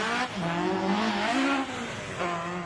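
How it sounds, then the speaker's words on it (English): A Ford Escort rally car's engine howls loudly and continuously, pitch rising and dipping as it slides sideways through corners, with a brief throttle lift near the end. "That oh so familiar noise as well from the Escort."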